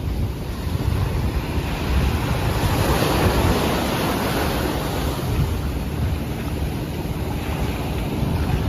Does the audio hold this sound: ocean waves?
yes